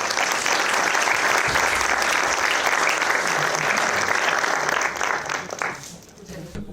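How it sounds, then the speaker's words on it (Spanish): An audience at a conference talk claps steadily and loudly for several seconds, then the applause fades out to quiet. "vamos a recibirle con un aplauso"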